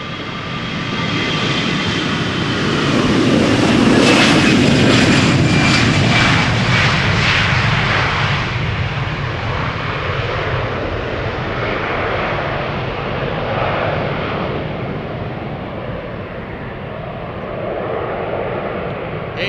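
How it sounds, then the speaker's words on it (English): Twenty-year-old Finnair Airbus A321 bound for Helsinki taking off at Schiphol, a loud jet roar that swells to a peak then slowly fades as the aircraft climbs away, with no talk over it. "one taking off from Cheaters Lane is the A321 to Helsinki, Finnair flight 1302"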